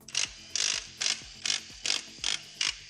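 A ratchet turns the 13mm pump bolts on a 700R4 transmission from a 1990 Suburban in seven quick, regular strokes of close, bright clicking, each followed by a brief gap.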